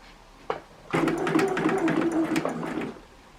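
A sewing machine stitches a fabric table runner into its binding, with a short knock followed by about two seconds of steady, close, fast mechanical whirring that then stops.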